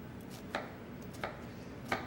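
A knife chops an onion on a cutting board, three quiet, evenly spaced cuts about two-thirds of a second apart over a low, steady room hum.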